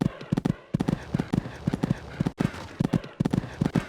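Rapid, rhythmic clip-clop of horse hooves galloping in the show jumping video game Equestriad 2001, steady bursts of hoofbeats with brief pauses, loud and close.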